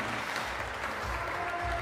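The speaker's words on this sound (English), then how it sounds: "And the crowd is going crazy." A crowd at an indoor bouldering competition in Loverval, Belgium claps and cheers as a steady wash of applause, dense and moderately close, with no single voice standing out.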